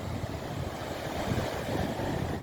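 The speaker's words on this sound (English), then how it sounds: "you can see straight ahead there the waves coming in" Ocean waves roll in toward shore at night, making a steady, continuous wash of surf with a faint windy rush and no voices.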